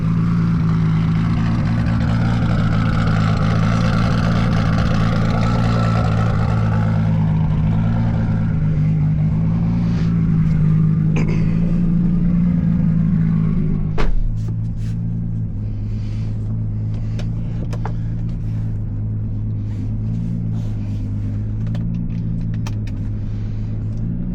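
A 1997 MK4 Toyota Supra with a six-speed gearbox, AEM Infinity standalone and triple-plate clutch cruises with a steady, loud low engine drone and road rumble, a brief rise in revs early on, then a settled hum.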